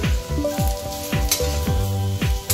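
Potatoes sizzle in hot oil that earlier fried chhena kofta, with a steady crackling hiss and several sharp, evenly spaced spatula scrapes against the pan, close up and without talk.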